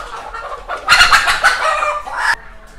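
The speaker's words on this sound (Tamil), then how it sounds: "இப்போ நீங்களே பாருங்கள் கோழிகள் எப்படி முட்டை விடுறதுக்காக உள்ளே படுத்துருக்குன்னு சொல்லி" Country chickens clucking around egg-laying nest boxes in a farm shed, a close flurry of loud hen calls and squawks rising in the middle, then easing to a few quieter clucks.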